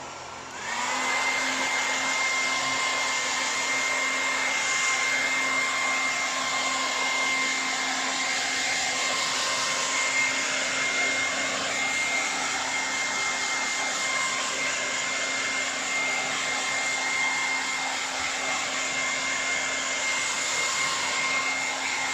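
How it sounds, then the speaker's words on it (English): A hair dryer on a hot setting runs continuously while drying paint over liquid latex on Foamex armour, a steady, fairly loud whirring blow with a constant motor whine and no talking. "you want to get your hairdryer. Okay, nice hot setting"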